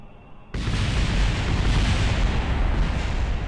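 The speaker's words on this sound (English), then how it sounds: "See if we can even blow this thing up." A video game explosion bursts in suddenly and swells into a loud, sustained roaring rumble that carries on without fading, with nothing else heard.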